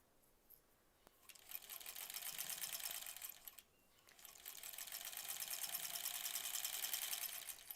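A sewing machine chain-pieces blocks for the Splendid Sampler 2 quilt in two steady, fast-running stretches of stitching, separated by a brief pause, close and fairly quiet.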